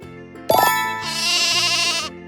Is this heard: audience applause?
no